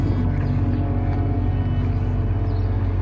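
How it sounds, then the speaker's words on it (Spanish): A car climbing a steep street on the Cerro de la Campana hillside, its engine a loud, steady low rumble close by for the whole stretch. "Miren hasta donde suben los carros ahí"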